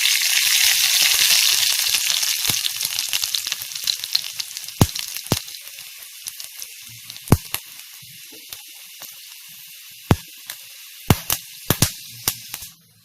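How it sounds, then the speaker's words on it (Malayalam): Mustard seeds hit hot coconut oil for a Kerala snake gourd and dried prawn stir-fry, giving a loud, steady sizzle that fades while sharp popping cracks burst out irregularly near the pan, alone with no talk. "എണ്ണ ചൂടായി കഴിയുമ്പോൾ കടുക് ഇട്ട് കൊടുക്കാം."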